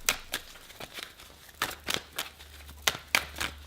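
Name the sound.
playing cards being shuffled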